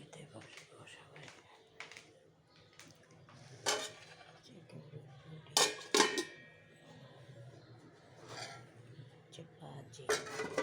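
Dishes and cutlery clink at a rice lunch, with scattered light taps and scrapes and a few sharper clatters spread across the meal. Low background hum and voices now and then.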